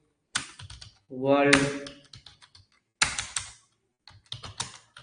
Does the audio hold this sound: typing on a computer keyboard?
yes